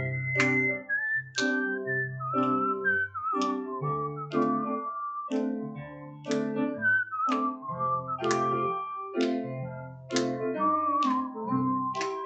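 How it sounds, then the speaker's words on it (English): A tune is whistled in clear melodic phrases, separated by short breaks, over soft low piano-like chords, with no talking. "You can whistle too if you want."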